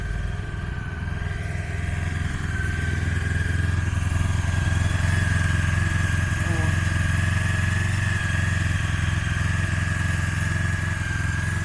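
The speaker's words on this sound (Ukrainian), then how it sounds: "Моторчик робить тихенько, рівненько." A Honda CB500 motorcycle with 39,000 km on it idles steadily while warming up, giving a loud, even, continuous low engine drone with a faint steady whine above it and no voices.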